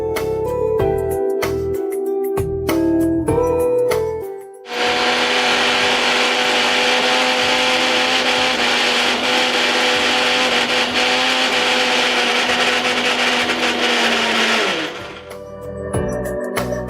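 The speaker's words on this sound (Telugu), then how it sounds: "ఇప్పుడు దీన్ని మనం మిక్సీ పట్టేసుకోవాలి." A mixer grinder runs steadily for about ten seconds, loud and close, grinding black chickpea batter for dosa, with clatter and handling sounds before and after the whir.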